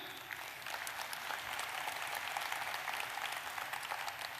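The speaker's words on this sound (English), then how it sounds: "Big clap for Galicia," An audience at a wine tasting event gives a steady burst of applause, dense clapping that stays even and moderately loud for several seconds with no talk over it.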